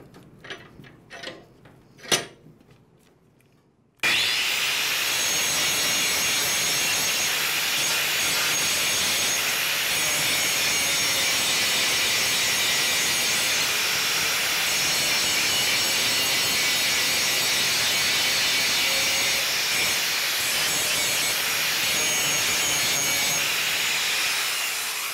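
Grinding on a push lawnmower blade while sharpening its second side makes a loud, steady, harsh abrasive roar for over twenty seconds after a few faint clicks, with no talk.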